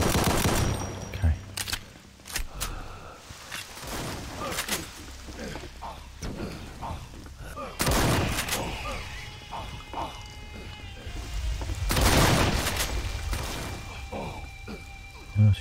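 Rapid gunfire bursts from the shooter video game Brutal Doom, loud and recurring in several heavy clusters over steady game noise, mixed with impacts and effects, with no talking.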